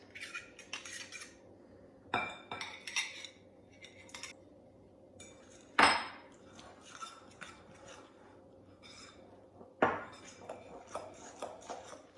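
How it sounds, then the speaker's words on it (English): Biscotti dough being mixed, eggs worked into dry ingredients in a bowl: a utensil scrapes and clinks against the dish in irregular bursts, with a few sharper knocks and quiet gaps between strokes. "Now we're going to add the eggs to the dry ingredients and only mix it until it's combined"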